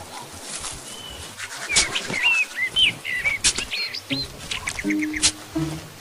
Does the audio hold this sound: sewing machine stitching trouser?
no